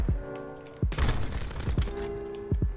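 Sniper rifle shots in a video game, four sharp loud reports spaced about a second apart, each with a low boom and ringing tail, one followed by a burst of noisy rumble.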